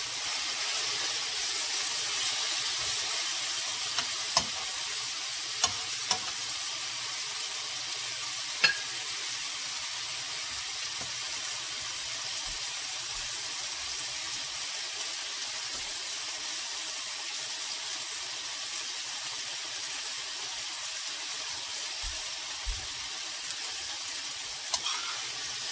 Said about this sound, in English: So, we're just sauteing them